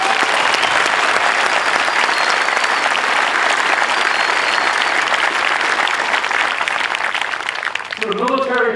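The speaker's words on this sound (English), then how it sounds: "Please give them a round of applause." Loud, sustained applause from an audience at an Air Force Basic Military Training graduation parade, a dense wash of clapping that carries on steadily before a voice briefly speaks over the fading end.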